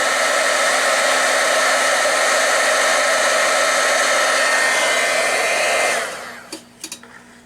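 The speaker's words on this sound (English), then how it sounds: "I take a heat gun and just heat up the tip of it" A heat gun blows hot air onto the tip of a soldering iron from a Pace PRC 2000 soldering station. The loud, steady rushing roar runs for several seconds, then cuts off, and a few faint clicks and handling sounds follow.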